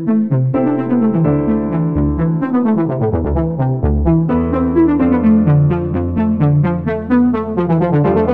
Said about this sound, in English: it's that little mellophonic synth that you hear, the little lead